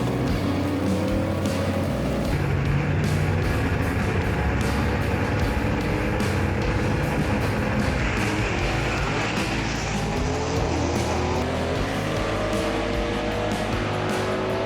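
A Pontiac Chieftain gasser drag car with a 409 engine races down a drag strip, its engine a loud, sustained roar with rising and falling tones that persists for the whole stretch without a break.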